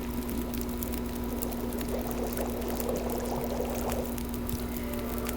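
Water poured steadily into a pot for boiling in the survival game The Long Dark, a continuous close splashing trickle over a constant low electrical hum, with no talking.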